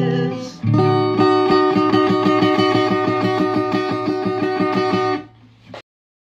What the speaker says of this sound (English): My string broke on my guitar